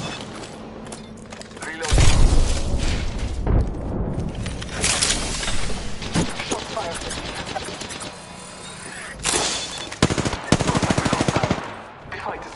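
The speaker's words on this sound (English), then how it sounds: "I am taking fire, friends. Getting shot." Video game gunfire in bursts of rapid automatic shots, loud and close, with heavier volleys and quieter gaps between them, under occasional talk.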